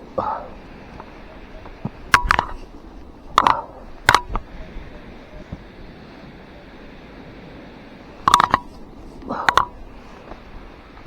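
Minelab Equinox 800 metal detector sounding short electronic signal tones on a beach after a storm, several brief beeps in pairs over steady wind and surf.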